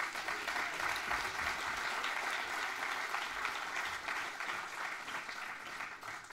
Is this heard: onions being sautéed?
no